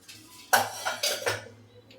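A pressure cooker of vegetable pulao being opened in a home kitchen, with sharp metallic clanks of the lid and pot followed by a few softer scraping and clinking knocks, close and fairly quiet.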